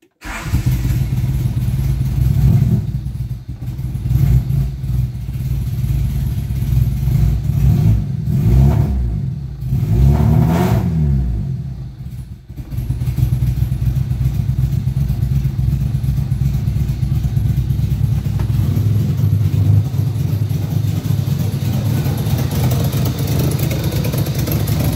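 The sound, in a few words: 1992 Honda EG car engine starting and revving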